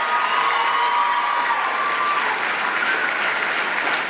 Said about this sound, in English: Let's give the contestants another round of applause